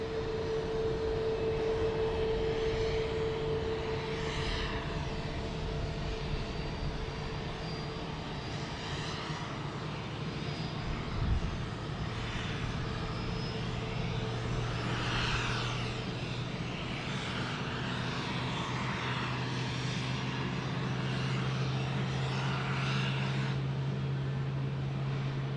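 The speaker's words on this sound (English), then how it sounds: "there goes Frontier again." A Frontier airplane at Tampa International Airport, its engines producing a sustained, fairly distant roar that holds steady and broad for the whole stretch.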